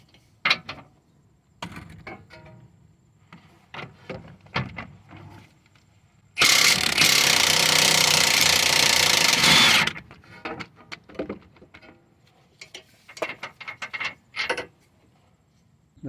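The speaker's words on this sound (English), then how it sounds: "The swivel link 17mm nut, I'm gonna try to pull it out without using the Allen key" A wrench works the 17mm swivel link nut on a Toyota Sienna control arm, a loud continuous mechanical rasp lasting about three seconds in the middle, framed by quieter scattered clicks and taps of handling.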